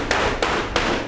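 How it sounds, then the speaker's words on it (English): Aluminum car body panels for replica Ferrari crash cars being shaped by hand with hammers, three sharp metallic blows at an even, unhurried pace, loud and close, no talking. "the guys are hammering out the aluminum in the shapes necessary, hammer welding them together"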